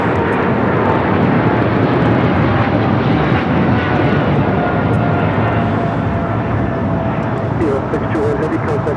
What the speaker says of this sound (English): 621 taking off to Taipei on the 777 freighter